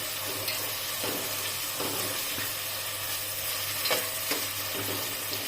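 Slit green chillies stirred in hot oil for vegetable pulao: a continuous close, dense sizzle with a few soft spoon scrapes and knocks against the pan, no voices.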